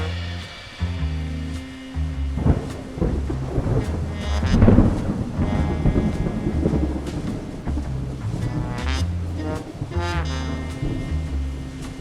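A thunderstorm plays from a tape, with heavy rain hissing steadily and deep thunder rumbling and cracking in swelling rolls, loud and continuous throughout, with no voices.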